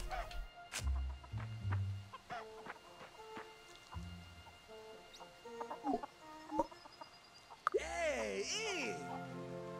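Chickens clucking in the farming game Fae Farm, scattered short clucks and calls across the scene, with a louder squawking burst near the end.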